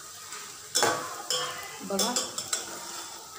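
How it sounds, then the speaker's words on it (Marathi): Cumin and mustard seeds fry in oil in a pan with turmeric, making a faint steady sizzle under sharper scrapes and clinks of a stirring spoon, while a voice speaks briefly and quietly. "आता हे जिरं मोहरी छान तेलात तळून घ्यायचं"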